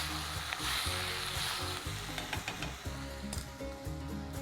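Chopped onion and tomatoes fry loudly in a pan, with a dense, constant sizzle and several sharp scraping knocks from stirring, heard close up without any voices.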